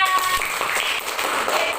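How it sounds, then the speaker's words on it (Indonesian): Brief burst of classroom applause for a student group after a presentation, a steady patter of many hands with a voice faintly audible underneath. "Tepuk tangan untuk kelompok Dinda."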